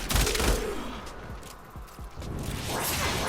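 Burston Prime rifle firing in the video game Warframe, rapid bursts of sharp, punchy shots with whooshing tails, loud and close at the start, then scattered snaps and crackles under continuing game noise.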